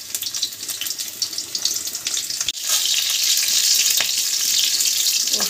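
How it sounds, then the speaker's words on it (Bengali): Garlic frying in hot oil as the first step of a chicken soup: a loud, continuous sizzle and crackle that steps up and stays strong after a brief clatter midway, with no voices. "রসুনটা তেলের মধ্যে দিয়ে দিলাম। একটু রসুনটা ভেজে নেবেন"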